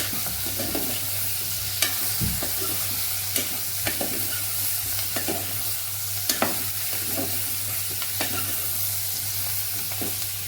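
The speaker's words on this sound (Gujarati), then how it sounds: "સરસ તેલમાં આપણે સાતરી લેશું" Vegetables for Kathiyavadi papdi and brinjal curry sizzle steadily in hot oil, a constant dense frying hiss with occasional spoon scrapes and stirring clicks close by.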